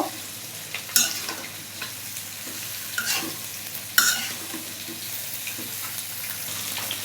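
Cut okra stirred in a hot pan, frying with a steady sizzle, sharp scraping stir strokes at about one, three and four seconds, close and alone.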